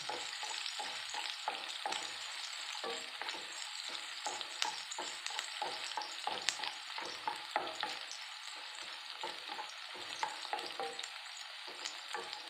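Green chilies and onion fry in a pan for rava upma, a steady bright sizzle with frequent quick stirring scrapes of a spoon, close and continuous with no talk.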